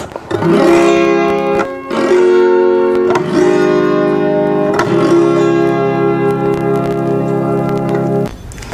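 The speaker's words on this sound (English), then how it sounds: "This is called an auto harp, and it sounds like this." An autoharp is strummed in a slow sequence of about five ringing chords, each bright sweep sustaining into the next, close and clear with no talking.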